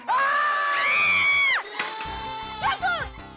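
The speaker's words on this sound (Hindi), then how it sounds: "तुम चिल्ला क्यों रहा है?" Loud, sustained shouting from a voice in a comedy cartoon, a long high yell lasting over a second that breaks off, followed by shorter excited cries and crowd-like noise close up.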